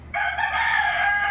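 A farm-raised rooster crows in one sustained, loud call close to the microphone, its harmonic cry holding steady from start to finish over a faint low background hum.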